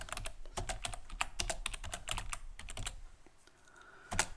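A command is typed into a Linux terminal on a computer keyboard: quick bursts of crisp, close key clicks, a pause, then a final pair of keystrokes, with no talking.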